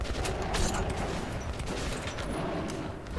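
Dense, rapid gunfire crackles continuously, with overlapping shots forming a loud, busy barrage throughout, in the video game Metro.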